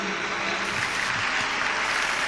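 An audience claps at a Gujarati religious gathering honouring a revered mother, a continuous, even wash of applause throughout.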